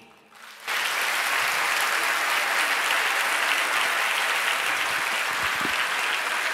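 After a short quiet moment, a college audience at a talk at DAV College in Chandigarh erupts into sustained, even clapping that stays loud and full until the end.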